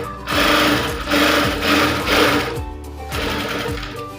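A sewing machine stitches the front part of a blouse in loud, rapid mechanical bursts, stopping briefly between runs, with no talking.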